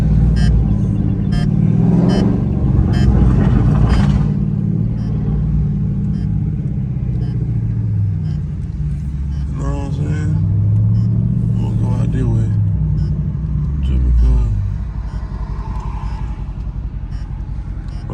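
A loud Dodge Scat Pack downshifting in traffic, its exhaust rumbling and rising in revving bursts across the stretch, with someone talking over the engine noise.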